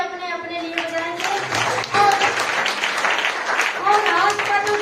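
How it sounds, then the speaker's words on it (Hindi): Audience clapping at a business networking event, a moderate round of applause mixed with a voice speaking over it, fairly close and steady for several seconds. "एक बार दिल से जबरदस्त तालियां आप सभी अपने अपने लिए बजाएंगे।"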